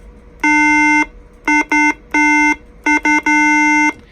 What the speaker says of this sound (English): it's going to beep at you like that to let you know that, hey, somebody's already keyed up, you can't talk